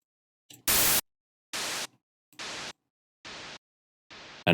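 Noise-based downsweep sound effect made in FL Studio 20 with a delay added, heard as one loud hissing sweep followed by four quieter repeating echoes, evenly spaced and fading, with nothing else underneath.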